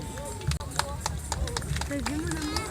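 Donkeys' hooves clip-clop at a Saint Martin fair in 2017, a scattering of sharp hoof knocks under a busy crowd with people talking throughout.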